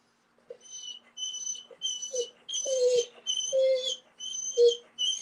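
A dog whimpers and whines in repeated short bursts, fairly close, with a thin high whistling tone recurring alongside each cry.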